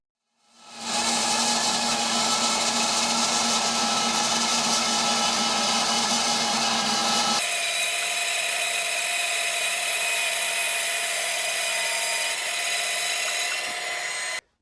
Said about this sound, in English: I've got my fence set up on the bandsaw to cut this in the center